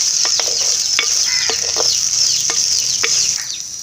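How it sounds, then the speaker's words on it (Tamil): Boiled chickpeas for sundal kulambu sizzle steadily in a pan while a spoon scrapes and stirs them in repeated short strokes, close and fairly loud, with no talk. "சேர்த்து நல்லா கிளறி விட்டுருங்க"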